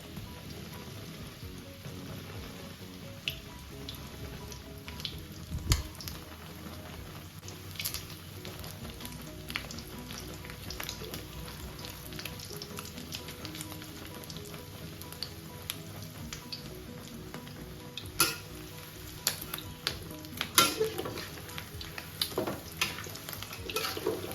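A Thai khai jiao omelette fries in plenty of hot oil, producing a continuous crackling, rain-like sizzle with scattered louder pops and spatters throughout, close and fairly quiet.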